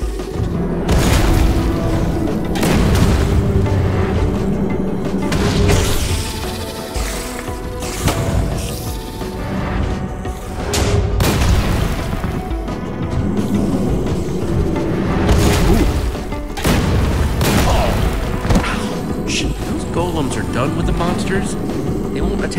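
Explosions in Minecraft Story Mode boom repeatedly in deep, loud blasts that rumble and fade over a dramatic game soundtrack, with characters talking between the bangs.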